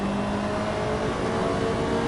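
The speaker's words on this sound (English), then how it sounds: "This car sounds pretty good." Ferrari engine in the racing game Assetto Corsa, a steady, droning high-revving note held at constant loudness for about two seconds with no talking.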